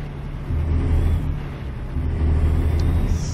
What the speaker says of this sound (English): this will be just for y'all who enjoy the sound of the engine